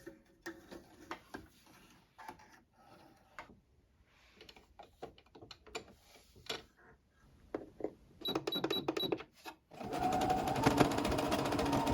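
Sewing machine stitching trim onto a collared shirt: short stop-start bursts of quick mechanical needle clatter, then a longer, louder continuous run of stitching toward the end.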